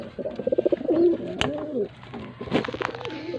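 Pigeons coo nearby in soft, throaty bursts, a rapid pulsing coo followed by lower rolling calls, with faint rustling and clicks around them.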